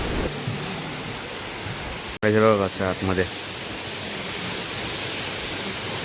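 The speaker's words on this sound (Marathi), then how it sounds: "धबधब्याचा आवाज आणि बघा." The waterfall at Pratapgad fort gives a steady, broadband rushing roar throughout, and someone speaks briefly over it.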